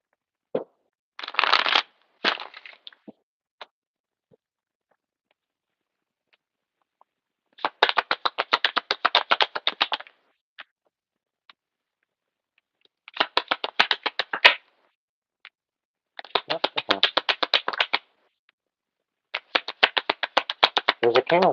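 Tarot cards are shuffled in several close, crisp bursts of rapid riffling, separated by silent pauses.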